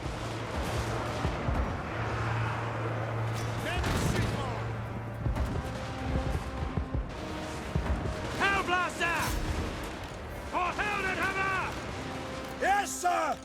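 Handgunner units in Total War: Warhammer 2 fire crackling volleys in a gunpowder battle, rapid irregular bursts of shots under ongoing narration and shouted battlefield voices.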